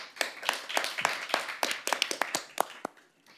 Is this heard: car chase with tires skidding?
no